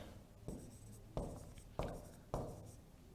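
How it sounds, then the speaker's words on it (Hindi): Chalk or marker strokes on a classroom board come in four distinct scratchy bursts at an uneven pace, close and fairly faint, with no voice over them. "और मैं इधर लिख देता हूं, यहां लिखता हूं"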